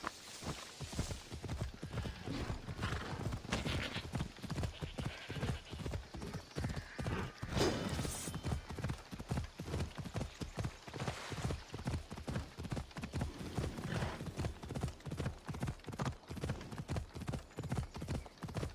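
Steady clip-clop of a ridden horse's hooves in Assassin's Creed Odyssey, a brisk even rhythm continuing throughout at close range with a possible brief whinny partway through.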